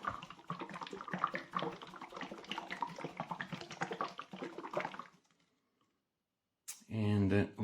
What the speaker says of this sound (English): let's give it a good shake